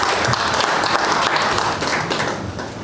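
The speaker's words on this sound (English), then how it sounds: "I think you should clap for yourself" An audience claps throughout in a dense, steady stream during a university ICT hub inspection visit by the vice chancellor, with no distinct voices over it.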